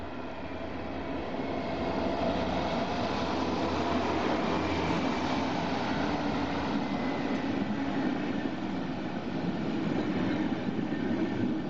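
A passenger train hauled by a BR 218 diesel locomotive rolls into a station platform in Bavaria, a steady loud rumble of engine and wheels on rails sustained throughout.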